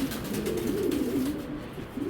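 A racing pigeon coos up close in a loft, a low, throaty, rolling coo that carries on steadily for the whole moment over a faint hiss of background noise.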